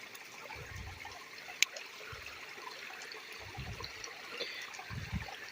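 Water trickles and splashes faintly over a rock during rockhounding at a mine, soft uneven rinsing with a sharp click partway through.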